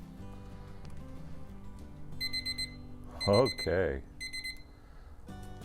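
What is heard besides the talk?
grill timer alarm going off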